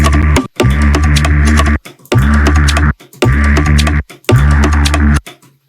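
Deep, growling reese bass from a Serum 2 preset, played as five loud sustained notes in a regular rhythm with short silent gaps between them, with no voices.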